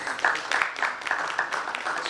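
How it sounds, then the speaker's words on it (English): Audience applause at an education summit, honoring a guest speaker: a steady wash of mid-volume clapping from a seated crowd that carries evenly to the end. "We can have a big round of applause for Dr."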